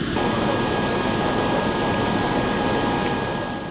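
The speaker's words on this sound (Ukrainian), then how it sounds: "тільки на Усуми приземлився Ембраєр 145 на борту якого основний склад команди Динамо Київ" Loud, steady roar and high whine of an Embraer 145 jet airliner's engines just after landing at an airport, continuous broadband noise that eases slightly at the end, with no speech.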